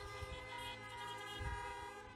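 Several car horns honk together at a drive-in church service, giving a long, steady, layered tone made of overlapping sustained blasts, fairly faint and heard from a distance.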